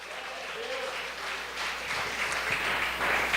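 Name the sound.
congregation applauding in church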